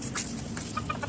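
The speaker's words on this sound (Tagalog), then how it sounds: "Ayan po yung mga chicken." Backyard chickens, including a large older bird, cluck in short, close bursts over a steady low background hum, with a few sharper calls near the start and end of a brief moment.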